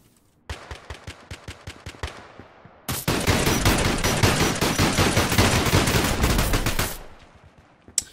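Gunfire in the Exverse first-person shooter, a short string of evenly spaced single shots, then a loud sustained automatic burst lasting several seconds before stopping, close and alone.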